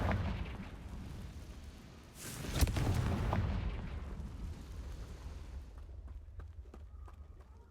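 In the Hogwarts Legacy video game, the Confringo explosive spell sets off a deep boom and blast partway through, over a rumbling battle backdrop that fades into scattered smaller impacts.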